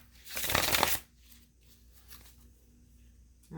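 Tarot cards shuffled in a reading, heard as one loud, close riffling burst of about half a second followed by quieter handling and a soft low hum.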